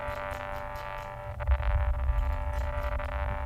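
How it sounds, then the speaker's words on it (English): A music sample with steady tonal drones, sidechained so it ducks and drops out in brief dips, with a denser low-end thump swelling in partway through. "the sample just by chance it had like some like dropout kind of artifact here"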